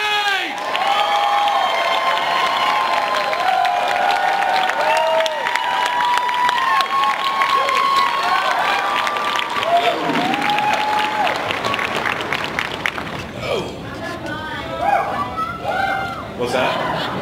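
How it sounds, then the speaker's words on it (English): A large comic con panel audience applauds and cheers for actor Mike Colter, a dense, loud wall of clapping with whoops and shouts throughout, thinning toward the end as scattered voices and a few children's shouts come through. "Round of applause for Mike Colter,"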